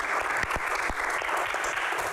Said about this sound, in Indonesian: Tepuk tangan semangatnya untuk box kali ini.